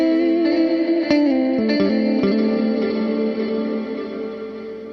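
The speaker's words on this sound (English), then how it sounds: "you can hear that nice plate reverb ringing out." Guitar notes played through an Encounter ambient delay and reverb pedal set to a plate reverb engine, a few picked notes blooming into a smooth, lingering wash that rings out and slowly fades.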